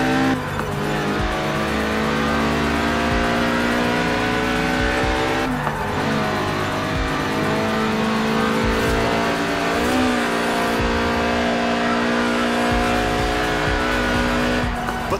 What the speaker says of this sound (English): Right then, the Lotus Elise, a 90s classic based on the age-old roadster recipe.